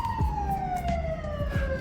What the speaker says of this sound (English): If you can hear that siren, they're probably coming for this guy